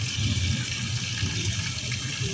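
Steady running tap water splashes continuously into a sink while onions are washed, a full, even rush with no pauses.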